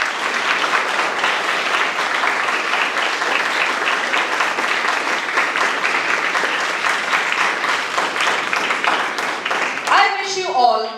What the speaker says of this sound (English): give a huge round of applause for them